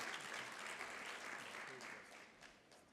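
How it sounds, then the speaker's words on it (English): An audience at a writing recognition ceremony in Boston claps in a sustained, dense round of applause that gradually tapers slightly toward the end, with voices faintly mixed in. "Let's give him a round of applause, Judge Sherman."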